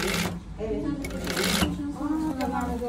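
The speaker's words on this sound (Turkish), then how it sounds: "Evet, bu şekilde komple çevresini dikiyoruz." A sewing machine stitches around a zipper lining, its rapid mechanical chatter running in short bursts close by while someone talks over it.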